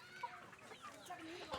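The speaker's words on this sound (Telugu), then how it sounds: "ఇక బయట కోళ్ళు ఉన్నాయి." Chickens cluck outdoors in a quiet, distant chorus of short overlapping calls over a soft background wash.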